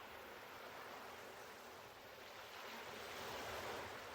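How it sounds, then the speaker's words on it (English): Gentle beach waves lap at the shore as a soft, steady, distant wash of surf, faint and continuous, with no voices. "You hear the gentle lapping of the waves against the shore"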